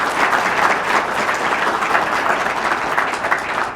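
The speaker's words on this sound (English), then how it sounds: "applause" Loud, sustained clapping from a crowd at the Appleton Public Library grand opening ceremony, a dense and even roar of hands with no talking.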